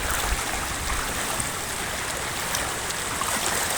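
Constant rushing, sloshing water as someone wades slowly through deep flood water during Typhoon Kristine, a broad continuous wash with occasional small splashes.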